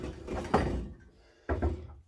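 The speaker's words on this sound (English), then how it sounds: "I'll just close the door so you can see the effect." A door is being closed indoors, with two dull thudding, rumbling movements about a second apart, the second ending in a soft shut, fairly close and moderately loud, with no voices.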